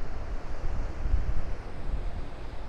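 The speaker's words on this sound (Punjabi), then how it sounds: "ਜਿਹੜਾ ਪਾਣੀ ਦੀ ਆਵਾਜ਼ ਹੈ ਨਾ, ਜਿਵੇਂ ਮੈਡੀਟੇਸ਼ਨ ਹੁੰਦੀ ਹੈ ਨਾ" River water flows out of Iskanderkul lake in the Tajikistan mountains, a steady rushing roar with low rumbling surges and some wind buffeting the microphone, close and continuous with no talking.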